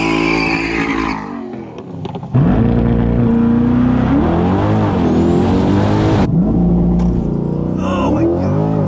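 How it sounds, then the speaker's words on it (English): A C8 Corvette roars off the line in a drag race against a Tesla Plaid, its engine loudly revving and climbing through gear changes, close and intense, with a brief quieter moment before launch. "All right, guys, we're about to do race number 3. So we're going against Andrew from Tesla Plaid channel"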